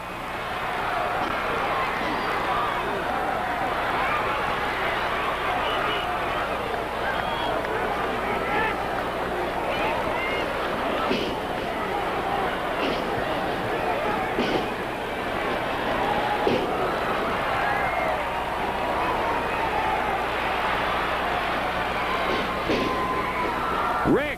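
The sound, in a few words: wrestling crowd cheering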